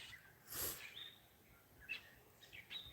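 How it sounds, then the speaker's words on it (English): Faint, scattered bird chirps sound at a distance from a pear tree in a backyard garden, over quiet outdoor background, with a soft breathy rustle early on. "you can hear the birds chirping in the pear tree."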